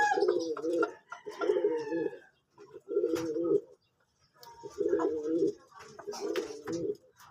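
Pigeons coo in repeated low, throaty phrases separated by short pauses, close by, with faint chirps and rustling in the background.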